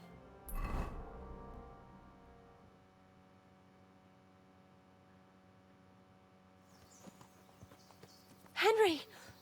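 In the video game Kingdom Come Deliverance 2, a ridden horse's hooves clip-clop softly under a quiet background, with a louder thump early on and a brief whinny-like burst near the end.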